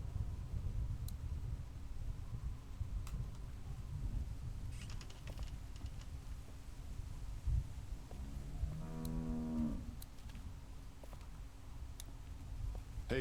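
A cow moos once in The Walking Dead video game, a drawn-out harmonic low call rising out of steady ambient game noise with faint ticking, heard alone without talk.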